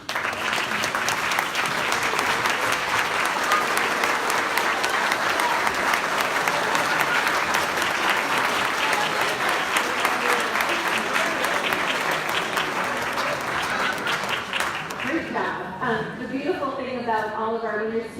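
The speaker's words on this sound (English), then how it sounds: "I'm pleased to have everyone stand for a final round of applause" A standing audience applauds the winners at the 2022 Best of Jackson Awards: steady, dense clapping fills the room throughout, with faint voices mixed in and the applause thinning near the end.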